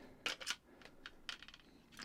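A cassette tape slotting into an Alba CP3 personal radio cassette player under repair, a few close plastic clicks and rattles, two sharp knocks near the start and a cluster of lighter clacks later.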